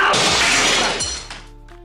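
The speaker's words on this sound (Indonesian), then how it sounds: "langsung membanting HP-nya sendiri hingga hancur" A mobile phone smashed until broken, a loud crashing shatter at close range that fades over about a second, followed by faint clattering debris.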